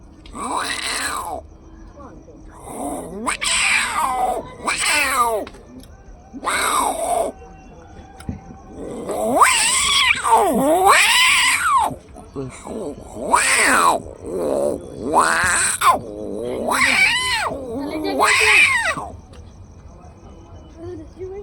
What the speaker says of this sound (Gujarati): પછી બિલાડાના અવાજ